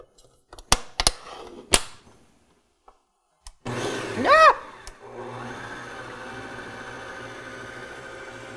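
A Kenwood Chef Titanium stand mixer with its flex beater knocks against the bowl sides: a few sharp knocks, then the motor starts with a brief rising whine and settles into a steady hum.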